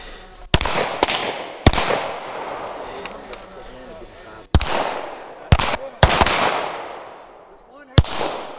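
Sharp gunshots ring out during a shooting exercise at orange and white targets, eight or so loud cracks in irregular bursts with pairs close together, each trailing a short echo.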